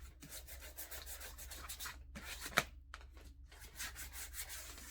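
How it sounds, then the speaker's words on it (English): Sandpaper rubs back and forth over a woven basket in short, quiet strokes with brief pauses, one sharper scrape standing out midway. "Now I'm going to sand this part."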